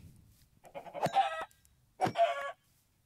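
Two short bursts of chicken clucking from Minecraft video game chickens, each a quick run of throaty clucks, separated by a brief pause.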